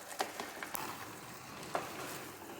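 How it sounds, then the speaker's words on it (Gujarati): Poha is stirred together with cooked potato in a pan, giving a quiet, close sizzle with a few light scraping clicks from the spoon and no voices. "બરાબર પૌવાને મિક્સ કરી લેવાના છે."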